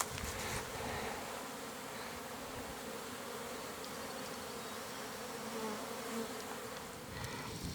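A dense, steady hum of many bees from log hives fills the air, droning continuously with no voices.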